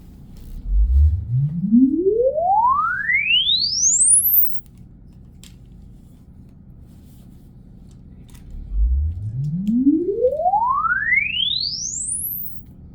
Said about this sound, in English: So if everybody can be quiet, just for the frequency sweep.